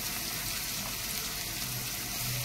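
Carrots go into a pan of browned frying onions, and a loud, steady, close-up sizzle of hot oil continues throughout with no gaps.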